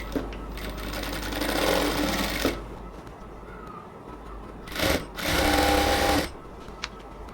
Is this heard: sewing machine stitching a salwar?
yes